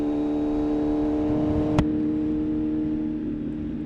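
A 2020 Kawasaki Z900 motorcycle engine hums steadily with a strong, even drone, holding a constant pitch with a single brief click partway through and no rise in revs.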